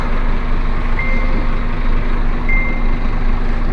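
Heard from inside the cab of a truck reversing at a lion park staging area in South Africa: two faint reversing beeps, spaced apart, sit over a loud, steady engine rumble.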